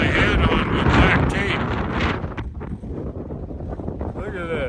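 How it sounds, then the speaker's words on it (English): Strong outdoor gusts of about 32 mph buffet the microphone during off-road work with a Rivian R1T pickup, a loud, continuous roaring rumble that swells and eases, with brief voices mixed in. "windy out here today"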